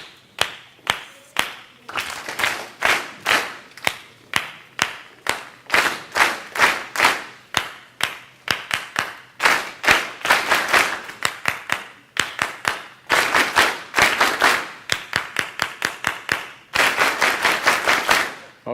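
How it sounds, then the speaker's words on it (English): Hands clap a basic rhythmic beat, sharp and loud at close range, in repeated patterned groups of claps with short pauses between phrases and a fast run of claps near the end. "I'm going to clap a basic beat, and I want you guys to repeat it."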